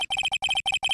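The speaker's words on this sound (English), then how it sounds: "I have a phone ring just now." A telephone ringtone from the Phoenix Wright video game, a steady electronic warble of rapid repeating trills in several short bursts, loud and clear with no voices.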